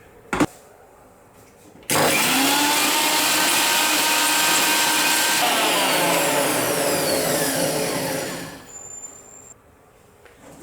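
A mixer blender beats oil into chilli mayonnaise, a loud steady whirring motor that starts abruptly after a brief knock, runs for several seconds with rising and falling pitch, then winds down and stops.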